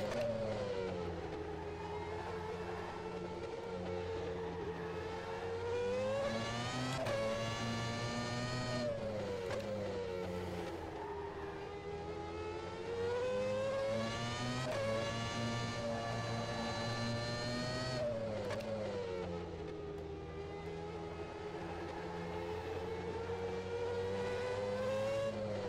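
McLaren F1 race car in the rFactor 2 simulator, its engine droning steadily through a lap with rising and falling pitch as it revs up through gears and drops on braking, loud and continuous with no talk.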